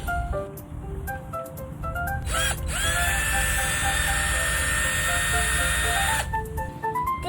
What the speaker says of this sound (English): What do you use the drill for? Screwing things in, like this.